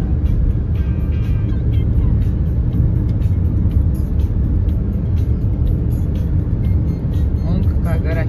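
A car cruising along an empty highway after leaving Partenit, heard from inside as a steady, loud rumble of engine and road noise that holds unbroken throughout, with possible voices mixed in.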